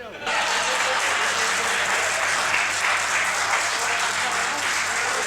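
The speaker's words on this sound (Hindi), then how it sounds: "एक बार जोरदार तालियां आप सबरस मुर्सानी जी के लिए बजाएं" Sustained, dense applause from an audience at a poetry recitation, a steady wash of many hands clapping that starts abruptly and holds evenly throughout, with some voices beneath it.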